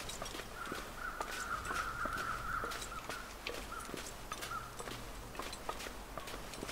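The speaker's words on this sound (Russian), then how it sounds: "Что-то тут ворона где-то орут." Crows caw repeatedly in The Long Dark video game, the calls fairly soft and distant over a steady ambient bed with faint footsteps, and no talk.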